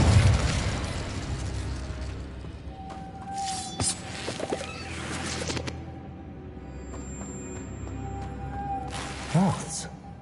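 An Incendio fire spell cast in the Hogwarts Legacy video game: a fiery burst at the opening, then quieter mechanical clicks and tones, with another short flaring burst near the end.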